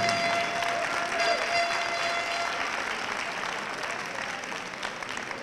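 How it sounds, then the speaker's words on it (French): Sustained audience applause at a country dance team final in Issoudun, a dense steady wash of many hands clapping that fades slightly toward the end, with a faint tone underneath and no talk. "Vous pouvez encore les applaudir"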